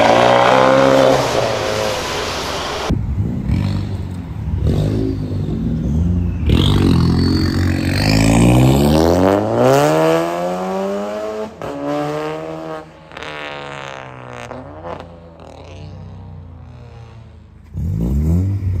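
A McLaren sports car at a gas station revs and accelerates loudly and close by, its engine pitch sweeping up and down in repeated surges after a noisy opening.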